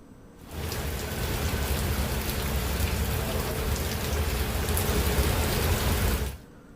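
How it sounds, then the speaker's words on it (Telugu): Heavy rain pouring down in Hyderabad, a dense, loud, even roar of falling water on surfaces that starts abruptly, holds steady for several seconds and then cuts off, with no voices. "భారీ వర్షానికి ఎక్కడికక్కడ ట్రాఫిక్ నిలిచిపోతోంది."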